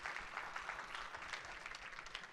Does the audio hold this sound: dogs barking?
no